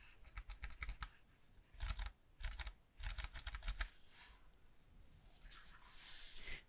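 Rapid keystrokes clatter on a Logitech mechanical mini keyboard in short bursts of clicky typing, close and crisp, with pauses between runs and a brief rustle near the end.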